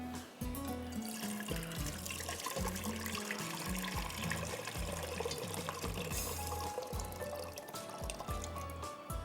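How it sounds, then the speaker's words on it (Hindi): Water pours steadily into a cooking pot in a home kitchen, four cups measured out for boiling chicken and noodles, a continuous close splashing stream lasting several seconds. "मैं 4 कप पानी ले रही हूँ"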